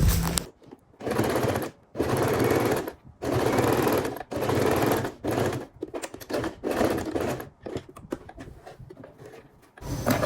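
A sewing machine stitches a line across the back pocket of a pair of men's trousers, running in steady bursts of about a second each with short pauses between them, close and fairly loud with no voices.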